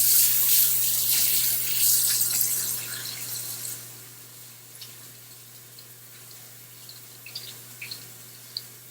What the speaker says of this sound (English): Okay, I'm gonna wash my hands now.